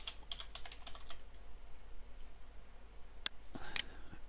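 Fingers tap on a computer keyboard in quick bursts while logging into a forum, soft close clicks with a few sharper keystrokes near the end, over a quiet room hum.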